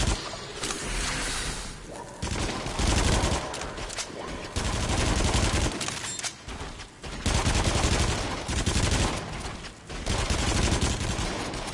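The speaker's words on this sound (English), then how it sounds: "I was shooting right at it" Rapid bursts of gunfire from shooting in a PlayStation VR game, loud and dense across the whole stretch with brief gaps between volleys, no talk over it.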